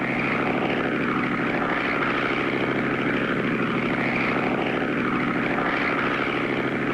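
A vintage crop duster propeller plane from a classic cartoon revs and takes off, its engine a steady, loud droning buzz that holds throughout with no talking.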